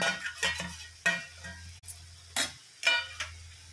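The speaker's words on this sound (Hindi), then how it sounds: "तो अब हम इसमें सारे मसाले डालेंगे।" Spices are stirred into keema kaleji frying in a pan, with a steady soft sizzle under sharp scraping and clinking strokes of a spoon against the pan, several uneven stirs close by.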